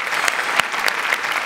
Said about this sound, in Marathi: जोरदार टाळ्या सगळ्यांसाठी